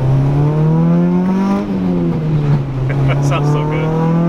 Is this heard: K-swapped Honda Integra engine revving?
yes